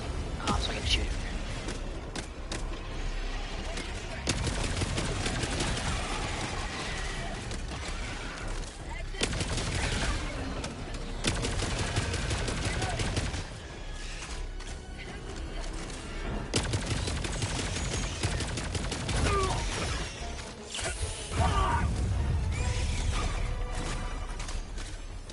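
Repeated weapon fire in Helldivers 2, with bursts of rapid shots and heavier blasts in clusters, loud and close, and someone talking over parts of it.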